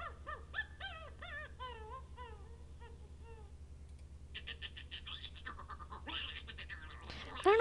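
A cartoon chipmunk in the Lenny's Music Toons game lets out a run of squeaky, sliding chirps, then busier chattering and a closing squeal over a low steady background hum.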